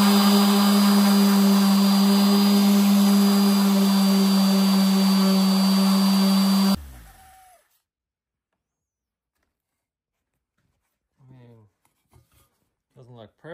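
A power tool whirs loudly and steadily as it polishes deeply tarnished metal aboard a sailboat using a Scotch-Brite pad, then winds down and stops, followed by quiet and a few brief spoken words.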